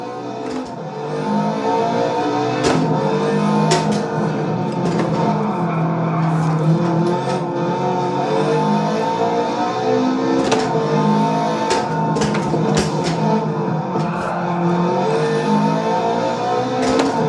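A race car in a sim racing game launches in second gear and accelerates hard at full throttle, its engine revving loudly through repeated upshifts, with tire squeal as it slides sideways; continuous and close, no talking.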